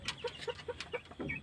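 A hen roosting in a small backyard coop at night gives a string of soft, quiet clucks in an even rhythm, close by and low in level, ending in a slightly fuller grumble.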